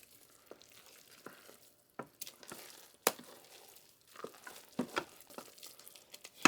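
Freeze-dried jambalaya soup being stirred in a pot: scattered soft scrapes and crinkly rustles with a few sharper clinks, close and fairly quiet, no talk.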